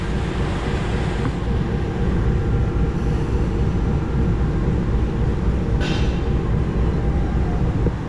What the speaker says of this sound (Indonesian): kereta api langsung dilangsir dan lokomotif dilepas